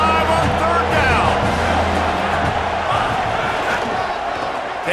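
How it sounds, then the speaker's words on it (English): A packed stadium crowd roars for the Ohio State Buckeyes on third down in an EA Sports College Football video game, a dense, continuous, loud cheer with a commentator's voice talking over it. "The Buckeye crowd alive on 3rd down."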